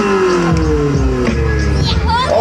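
A monster truck engine at a stunt show revs and roars steadily up close, its pitch rising and falling, with faint voices in the background.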